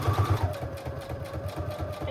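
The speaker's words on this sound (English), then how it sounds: "So I'm going to start by doing that straight stitch all the way around" A sewing machine runs a steady straight stitch around the edge of a small sequin-filled Christmas ornament shaker box, with close-set stitches. Its motor hums evenly and rapidly up close for the whole moment, with no talking.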